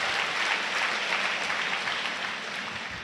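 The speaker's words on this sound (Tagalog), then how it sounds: "Lakasan niyo yung palakpak niyo kung nakakaunawa kayo." A church congregation at a Tagalog preaching service claps steadily, a dense wash of applause that fades slightly toward the end, with no talking over it.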